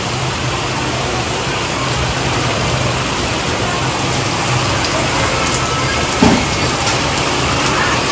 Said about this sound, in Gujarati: મસ્ત મજાનો એવો વરસાદ ચાલી રહ્યો છે.